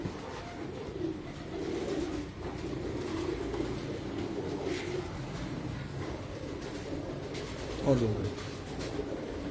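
Pigeons kept by a fancier coo softly at a loft, low murmuring calls under nearby people talking, with a brief louder bird sound near the end.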